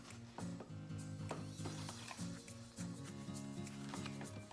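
A ratchet wrench loosens the blade on a lawn mower deck, giving a close, quick series of clicking ratchet strokes with brief pauses between them.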